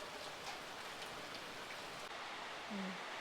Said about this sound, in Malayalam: എന്തായാലും ഇത് ആർത്തലച്ച് വീണ മഴയാണ്